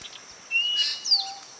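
An African grey parrot gives a short series of thin, clear whistles and squeaky calls close by over a quiet background.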